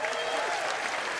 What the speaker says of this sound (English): They were all clapping.